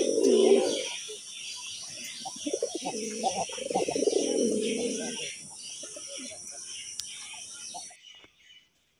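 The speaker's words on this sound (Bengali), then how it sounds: "দেখেন ডাকতেই আছে, পুরাই অস্থির একটা অসাধারণ একটা কবুতর জোড়া।" A pair of Golla pigeons coo in low, throaty rolling bursts close by, repeated over several seconds, with a high steady insect-like hiss behind them that stops near the end.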